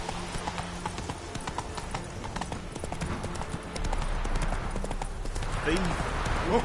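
Steady clip-clop of horse hooves trotting at an even rhythm in the video game The Witcher 3: Hearts of Stone, with voices talking over them and some rustling background noise.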